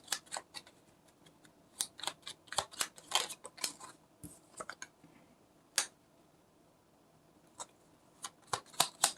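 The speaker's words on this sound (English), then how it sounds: "let's pull a card before I say that" Tarot cards being shuffled and one pulled from the deck: quick, crisp papery flicks and snaps in irregular bursts, close and fairly quiet, with no voices.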